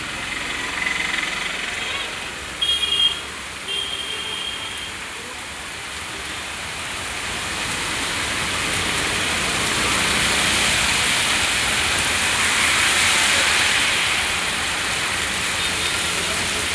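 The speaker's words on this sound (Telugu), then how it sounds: "బస్ స్టాప్లో కూడా ఉండే పరిస్థితి లేదు, ఇంతగానో వర్షం వస్తుంది." Heavy rain pours down at a bus stop in Hyderabad, a steady broadband wash of water that swells louder toward the middle and stays close and continuous, with no talk over it.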